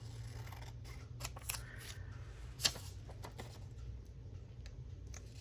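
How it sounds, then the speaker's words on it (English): Scissors snip paper apart for a creative journal in a quick run of crisp, close cuts. One sharper snap stands out midway, and the room is otherwise quiet. "I'm gonna cut them apart."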